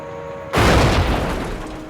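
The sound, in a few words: grenade explosion near a tank track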